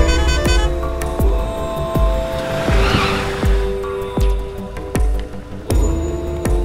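A car in a Malayalam action film scene skids to a halt, tires squealing loudly over a running engine, with sharp regular ticks and thuds punctuating the screech.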